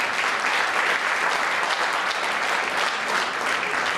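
An audience applauds a launeddas player at a traditional Sardinian music and poetry event, dense continuous clapping that holds steady and loud throughout.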